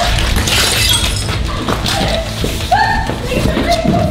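A glass pane falls and shatters inside an abandoned hotel at night, a sharp, bright crash with scattered tinkling debris, followed by people laughing and talking nearby.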